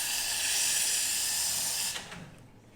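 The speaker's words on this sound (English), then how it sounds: "And then once again, do a really good purging of the steam wand." Steam hisses loudly and steadily from an espresso machine's steam wand as it is purged, then cuts off abruptly near the end, leaving a faint fading sputter.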